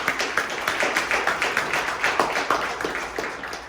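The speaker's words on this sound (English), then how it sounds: "Again, let's give our panel a round of applause." Audience applause for a discussion panel at an event, a steady patter of many hands clapping with regular sharp peaks, moderately close and continuous throughout.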